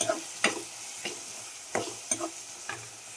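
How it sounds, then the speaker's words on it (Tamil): Onions and tomatoes sauté in a pan for fish curry, with a steady low sizzle broken by several distinct spatula stirring strokes, close and clear. "தக்காளி ஆட் பண்ணிட்டு அதையும் நல்லா வதக்கி விட்டோம்"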